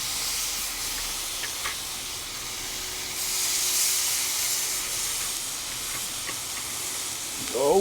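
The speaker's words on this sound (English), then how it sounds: "We're gonna do quick sears on each side." Picanha steaks sear on a Blackstone griddle with a steady, broad sizzling hiss that swells briefly midway, continuous and fairly loud with no talking.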